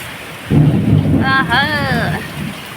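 A close, loud rumble of thunder breaks over heavy rain during a storm in Nagpur, with steady rain noise throughout and a voice speaking briefly partway through.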